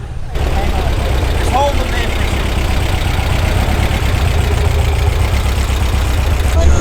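A Volkswagen Eureka kit car built on a 1968 Beetle and fitted with a Subaru engine idles steadily at a car show, a continuous low rumble heard close up. Voices and crowd noise carry on over it throughout.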